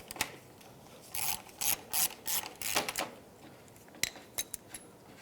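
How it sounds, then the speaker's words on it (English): A ratchet turning a 19 mm socket loosens the temperature sensor on the radiator of a 1997-2001 Lexus ES 300, giving close bursts of quick clicking with short pauses between strokes, then a few sharp isolated clicks. "You can use a 19 millimeter socket, put it over, and loosen it up."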